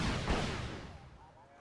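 A fire-and-forget missile launches in the war strategy game Wargame: Red Dragon: one sharp, heavy blast that roars and rumbles, then fades away over about a second.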